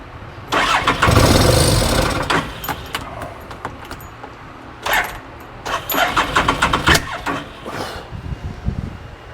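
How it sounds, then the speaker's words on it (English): Odes Dominator 1000 X2 LT UTV engine cranking and catching, with sharp backfire pops from a misfiring cylinder, loud and close, arriving in irregular bursts separated by brief pauses. "Backfiring out of that cylinder."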